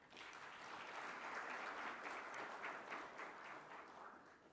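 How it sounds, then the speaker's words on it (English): Audience applause for a presenter at a 2017 business summit, a steady sustained wash of many hands clapping throughout, moderately distant and even in level. "Please, can we have a huge round of applause for him?"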